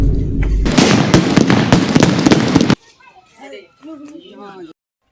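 Diwali firecrackers burst in a rapid, loud crackling barrage for a couple of seconds, then cut off abruptly; children's voices talk and call out afterward in the quiet.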